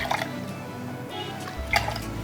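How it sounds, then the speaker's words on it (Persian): Pineapple juice poured into a measure for a cocktail, with short wet splashes and a faint liquid patter, loudest near the start and again near the end, with no talking. "آب آناناس 4 CL میخوایم."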